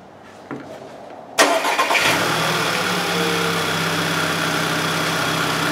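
A 2010 Volkswagen Tiguan 2.0T with a throttle valve controller fault cranks and starts up close after a key click, then settles into a loud steady idle.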